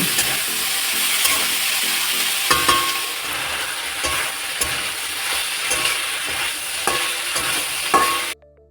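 Dried fish and potatoes fry in a pan with a steady broadband sizzle, punctuated by scraping stir strokes and clinks of a utensil, close and loud, ending abruptly.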